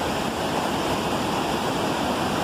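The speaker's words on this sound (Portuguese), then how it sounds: "o barulho de cachoeira lá" A steady, continuous rush of falling water at a waterfall in Presidente Figueiredo, Amazonas, a dense broadband roar with no pauses or voices.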